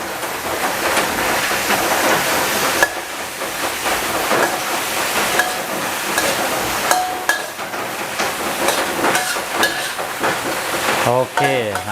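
Crispy fried snakeskin gourami tossed with holy basil in a hot wok, giving a steady loud sizzle with scraping and clanking of the utensil against the pan throughout, no talking.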